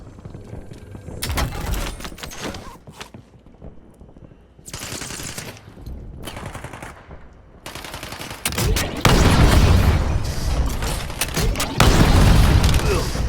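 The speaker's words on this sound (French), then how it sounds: "Frappe au napalm paré." Explosions from a napalm strike in the Warzone video game, with heavy booms and loud bursts of gunfire building to a sustained roaring blast near the end, while voices talk in between.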